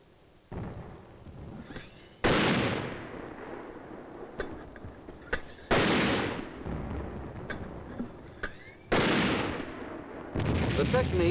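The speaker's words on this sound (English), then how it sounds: "the aerial observer directs the mortar fire on enemy positions that can't be seen from the" Mortar rounds fire on enemy positions in sharp, heavy booms, each followed by a rumbling tail, four blasts spaced a few seconds apart over steady background noise.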